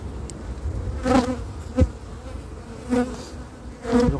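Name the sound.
honeybees buzzing at a beehive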